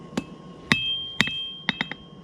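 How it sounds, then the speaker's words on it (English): Hammer blows forging a kiridashi blade, six sharp metallic strikes with ringing tones, close and loud, spaced irregularly with a quick pair near the end. "So we're going to be hammering in that angle."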